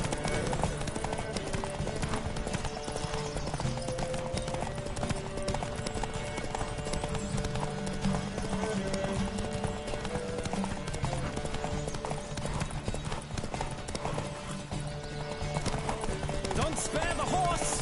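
A horse gallops in The Witcher video game, its hooves drumming in a fast, continuous clip-clop rhythm over game ambience, with a faint whinny and voices calling out at times.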